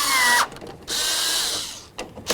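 A power tool whirs in short bursts, driving headlight assembly bolts on a 1997-2005 Lexus GS300, three close, loud runs separated by brief pauses with no talking.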